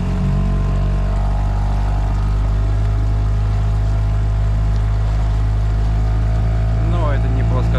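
A 5 hp NS Marine two-stroke outboard motor drones steadily nearby, a loud continuous buzzing hum that holds an even pitch throughout.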